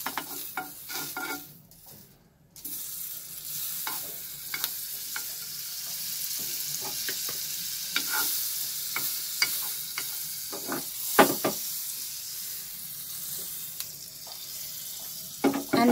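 Butter sizzling in a heated pan, a steady close crackle and hiss that starts after a brief quiet gap and carries on with scattered pops and a few scraping taps.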